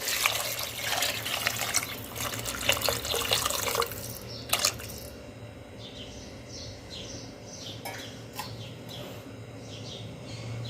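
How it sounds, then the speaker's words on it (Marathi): Water pours steadily into a pot of moong dal and rice for a few seconds, then gives way to quieter trickles and scattered drips, with faint birdsong in the background. "उरलेलं पाणी आता आपण घालून देणार आहोत"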